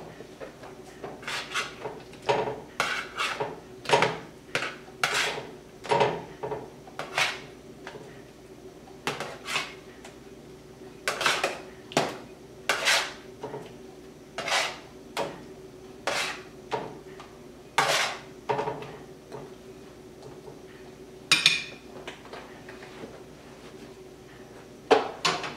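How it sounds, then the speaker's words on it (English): Kitchen clatter while an oven pan holding a stuffed beef hamburger is checked and the burger flipped: a long run of sharp metallic clanks, knocks and scrapes, irregular and close, over a low steady hum. "Now I'll check on the hamburger in the oven. I'll flip it over."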